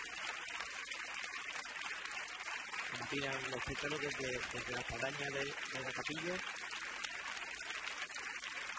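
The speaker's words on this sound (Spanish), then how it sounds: "Aplaude la calle San Jacinto, la calle Padre del Corro." A street crowd claps continuously for the Virgen de la Estrella procession in Triana, Seville, as a steady wash of applause under a commentator speaking over it.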